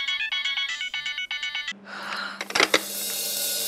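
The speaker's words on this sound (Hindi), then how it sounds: "अच्छी रिंगटोन है" A melodic phone ringtone repeats its short tune several times, then cuts off into a noisy rustle with a low hum and clatter.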